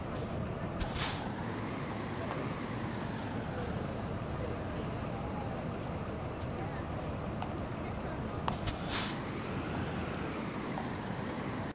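A truck in the driving game Trucks & Trailers by SCS Software maneuvers in reverse with a continuous engine rumble and two sharp hissing air-brake bursts.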